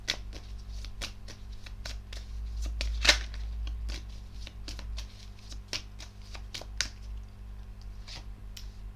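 A deck of tarot cards is shuffled and cut by hand, quick crisp riffles and taps repeating in irregular bursts, close and fairly quiet over a low steady hum.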